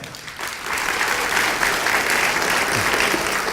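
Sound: congregation applause

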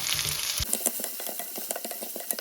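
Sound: fennel seeds frying in oil

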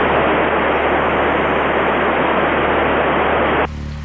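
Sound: radio static noise during ISS radio contact attempt

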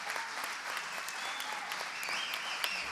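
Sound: applause for award recipients

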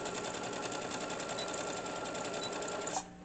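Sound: sewing machine backstitching fabric

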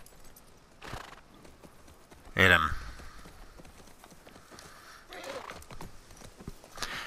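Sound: horse hooves in video game The Last of Us Part II

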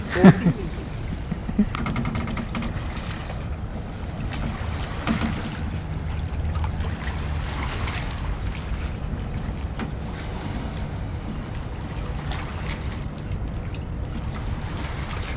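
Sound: fishing boat at sea

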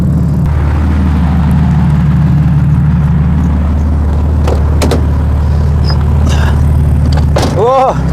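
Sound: BMW E36 engine revving during test drive

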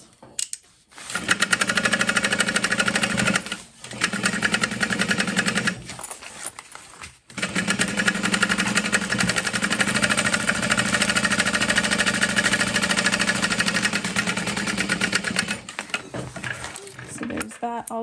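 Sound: sewing machine basting the seams of an Elina backpack

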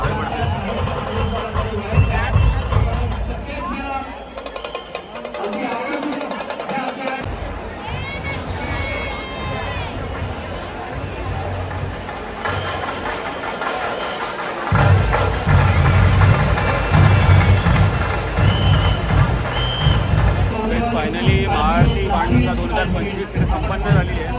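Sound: crowd chatter after the Banganga Maha Aarti ends

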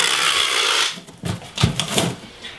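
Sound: packing tape strips applied to a shipping box

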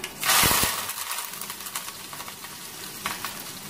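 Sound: neem flowers and curry leaves sautéing in a pan

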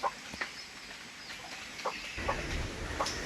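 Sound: chickens clucking

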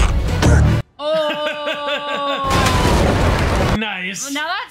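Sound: cannon fire

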